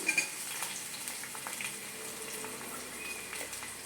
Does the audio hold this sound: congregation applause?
no